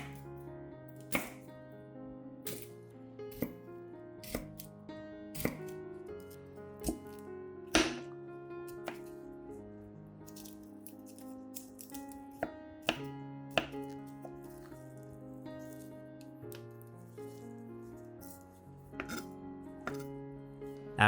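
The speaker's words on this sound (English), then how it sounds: "After chopping the garlic into small pieces" A knife taps repeatedly on a cutting board chopping garlic into small pieces, sharp irregular chops over a soft musical background.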